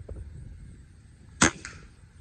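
A single suppressed crack from a .22 Umarex Gauntlet air rifle fired at a starling on a farm, one short sharp report midway through an otherwise quiet outdoor stretch.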